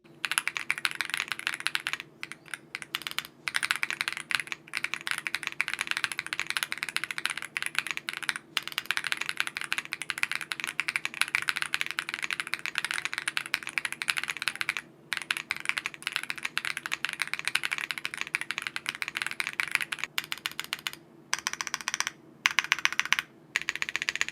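Fast, continuous clacky typing on a Womier SK65 mechanical keyboard, close and crisp, with brief pauses between bursts of keystrokes.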